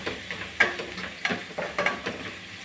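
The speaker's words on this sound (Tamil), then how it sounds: "அண்டு ரெட் சில்லி பவுடர், மிளகு பொடி, நல்லா வதக்கிடலாம்." Ivy gourd sautés in a pan with turmeric, red chilli powder and pepper powder: a soft continuous sizzle broken by regular scraping stirs of a spatula, close and with no talking.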